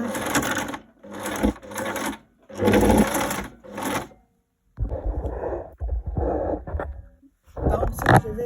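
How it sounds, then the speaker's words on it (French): Sewing machine stitching elastic inside a simple dress, running in several separate bursts of a few seconds each, with short pauses between them, close and fairly loud, with no talking. "I'm gonna sew, secure the elastic inside"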